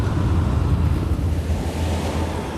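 Ocean waves rendered as a sound effect: a loud, continuous low roar of surf and wind that rushes without break, close and full, with no voices over it.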